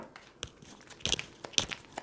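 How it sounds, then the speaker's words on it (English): Oracle cards are pulled from a deck with soft papery crinkles, slides and light taps, a few sharper card snaps close by in a quiet room. "let's pull some oracle cards for you"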